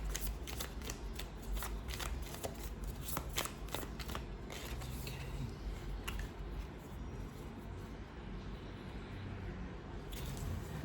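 Tarot cards being shuffled close by, a run of quick crisp riffles and flicks that thins out into softer sliding and handling of the deck, quiet and without talking.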